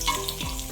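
Green beans hitting hot olive oil in a pan, a steady sizzling hiss with a brief stirring scrape, close and fairly even throughout with no voices.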